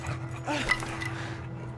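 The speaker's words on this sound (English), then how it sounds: "The dog breaks its collar and lunges." A dog in the video game As Dusk Falls pants and lets out small whimpers and yips under a dense game soundscape, moderately close, with a low hum running underneath.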